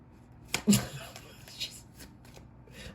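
Tarot cards shuffled by hand for a reading, a short burst of riffling and card slaps, close and fairly soft, with a voice speaking briefly over it.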